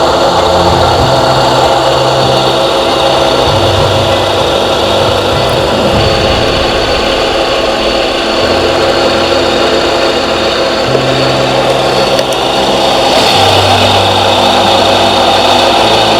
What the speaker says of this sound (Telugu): అబ్నార్మల్ సౌండ్ వస్తుంది ఇంజన్ బేరింగ్స్ నుంచి.